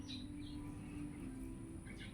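Small birds chirp in short, scattered bursts from the treetops above an orchard, faint and somewhat distant over a steady low background hum.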